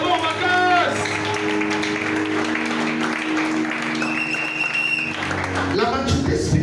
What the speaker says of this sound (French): Est-ce que tu peux acclamer le Seigneur?